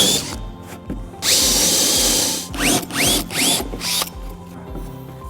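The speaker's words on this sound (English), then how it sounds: "I'm going to drill a hole." A power drill whirs in short bursts, then runs for a long stretch, its pitch sweeping up as it spins up, close and loud.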